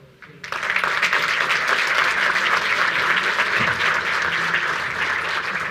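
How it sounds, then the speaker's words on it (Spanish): Sustained audience applause at a Kubernetes networking tech talk, starting abruptly after a brief quiet moment and holding steady and loud throughout, with no voices over it. "le damos un fuerte aplauso a Fer."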